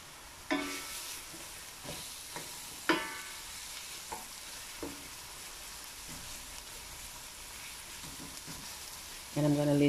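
Chilies, grated ginger and garlic fry in a pan with a steady, soft sizzle, broken by a few sharp clanks and scrapes of stirring, and a louder burst of frying near the end.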